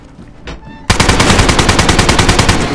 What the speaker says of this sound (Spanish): ¡Disparó!